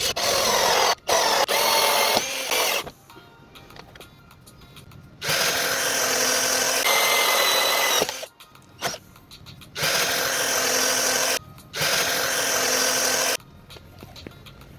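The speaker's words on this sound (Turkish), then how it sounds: "Şimdi deliklerimizi deleceğiz." A cordless drill whines through several separate bursts of drilling holes in a car bumper, each a few seconds long, with quiet pauses and handling noises between them.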